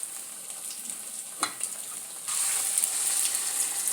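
Egg appam sizzles steadily in hot oil, with a soft continuous frying hiss that briefly crackles and then grows louder and fuller partway through, heard alone without talking.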